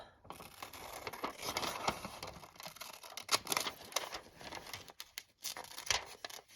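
Close, quiet snipping and rustling of scissors cutting magazine paper, irregular crisp cuts with short pauses between them.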